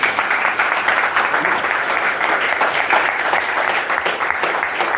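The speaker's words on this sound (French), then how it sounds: "Applaudissons pour notre Seigneur." A church congregation bursts into dense, continuous applause for the Lord, loud and sustained with a faint murmur of voices under the clapping.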